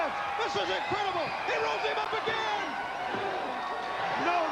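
A big arena crowd roars and cheers at a 1994 WCW TV wrestling match between Steve Austin and Ricky Steamboat, a dense, steady wall of noise with whoops rising above it, running the whole time under commentary.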